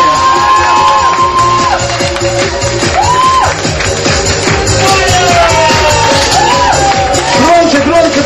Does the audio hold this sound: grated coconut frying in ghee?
no